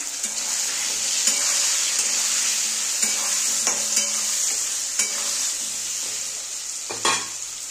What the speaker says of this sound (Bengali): লবণ, হলুদ গুঁড়ো, এবার ভালো করে আলুটা ভেজে নেব আমি